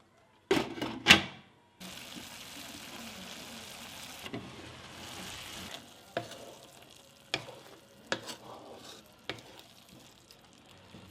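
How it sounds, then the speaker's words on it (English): Curry leaves and dried fish cook with khar in a pot, opening with a few loud clanks, then a low steady simmering hiss interrupted by intermittent scraping and knocking of a spoon against the pot. "add your dried fish and khar or cooking soda. Stir, cover and cook it again for 5 minutes"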